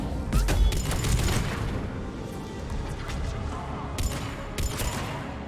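Rapid turret gunfire in Mass Effect 3, bursts of sharp shots cracking loudly at the start and again near the end, with some explosive thuds between them and a brief voice.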